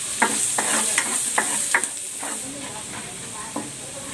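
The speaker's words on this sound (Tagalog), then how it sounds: "Magigisa na ako ng bawang." Garlic sautéing in a pan of reduced cooking oil for pancit: a constant bright hiss of frying with a series of distinct spoon-stirring knocks in the first two seconds, then fewer, close and clear.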